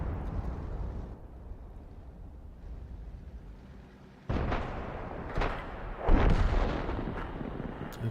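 An M53/M55 self-propelled artillery piece in World of Tanks fires a shell, heard as a sudden heavy boom at about four seconds and a second loud blast near six seconds, each followed by a rumbling tail over steady low background noise.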